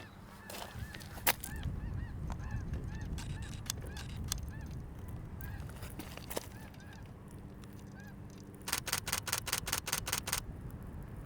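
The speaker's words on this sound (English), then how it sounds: "Snow geese." Snow geese honk in a moving flock on a spring day at a birding point, the calls repeating steadily at a moderate distance outdoors, with a quick run of sharp clicks near the end.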